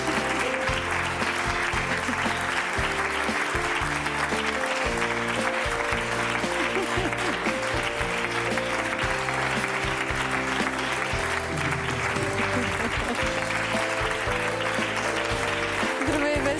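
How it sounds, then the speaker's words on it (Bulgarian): A television studio audience keeps up loud, sustained applause to welcome a family onto a game show, a thick continuous clatter of hands that holds for the whole stretch with music playing underneath. "Нека посрещнем с много силни аплодисменти в студиото на Предай нататък"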